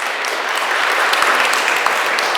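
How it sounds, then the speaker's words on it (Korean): A church congregation at a Sunday service applauds encouragingly for two newly elected youth leaders standing up, a dense, sustained wash of many clapping hands that fills the room loudly from start to finish. "여러분 우리 큰 격려의 박수를 주시고"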